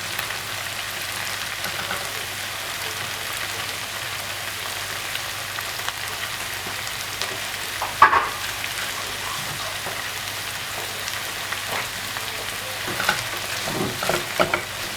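Onions and peppers sizzle steadily in a frying pan beside cooked potatoes, a continuous crackling hiss with occasional louder pops and stirring sounds, close and with no talking.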